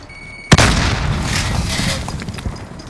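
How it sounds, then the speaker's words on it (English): A grenade explosion in Call of Duty Modern Warfare during a multiplayer match, one sudden loud boom followed by a roaring, rumbling decay that fades over a couple of seconds. "Grenade out!"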